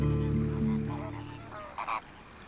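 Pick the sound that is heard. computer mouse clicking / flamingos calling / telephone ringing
flamingos calling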